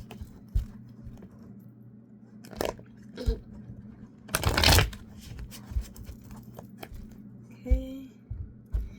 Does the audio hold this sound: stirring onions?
no